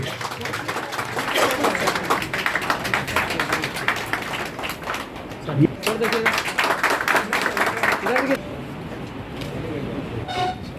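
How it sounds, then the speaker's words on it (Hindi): Audience clapping at a seminar, a dense, rhythmic patter of many hands that continues for several seconds, stops briefly and then resumes, with a horn-like tone and talk mixed in. "जोरदार तालियां होनी चाहिए।"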